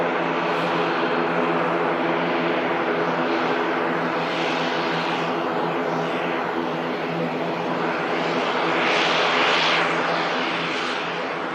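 Airplane at Manchester Airport, likely inbound on a short flight from Dublin, roars steadily and loudly throughout, with a broad engine drone that swells slightly near the end and no voices.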